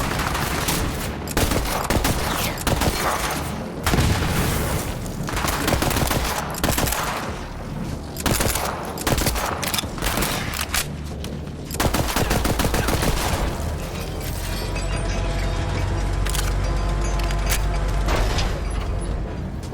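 Gunfire in the video game Borderlands 3, loud and dense bursts of rapid shots and fusillades that go on almost without a break, with mechanical clatter layered under a thick game soundtrack.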